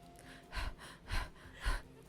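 A voice imitates panting with three breathy, rhythmic huffs, evenly spaced and close to the microphone.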